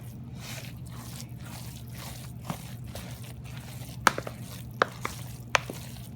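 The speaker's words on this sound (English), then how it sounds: "Now you're gonna have to stir it up really, really good." A thick cornbread dressing mixture is stirred in a bowl, giving soft rhythmic squishing and sloshing with a few sharp spoon clicks against the side, close and steady with no talking.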